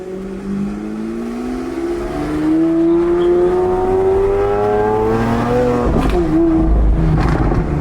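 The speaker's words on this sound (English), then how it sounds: "So you want to feel this V12 sound and scream." A tuned V12 supercar in manual mode climbs in a loud, rising rev close by, then drops off with a sharp burst of crackling backfire pops near the end.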